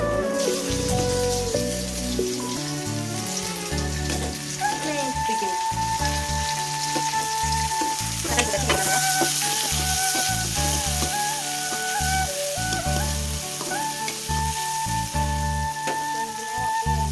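Sliced onions sauté in a pan on an Indian home stove, giving a steady, close sizzle that runs the whole way through under a layer of continuous musical tones.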